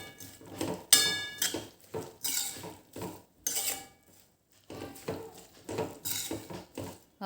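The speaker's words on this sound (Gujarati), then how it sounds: "હવે એને સારી રીતે આપણે મિક્સ કરી લેવાનું છે" Spiced green onion curry is stirred in a pan, with close, intermittent scraping and clinking of a spoon against metal in short bursts separated by quiet pauses.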